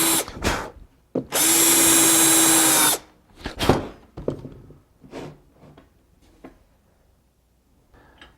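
Power drill with a 7/32 drill bit boring holes, a loud, close whine lasting about two seconds between short clicks and handling knocks, followed by quieter clatter and scraping.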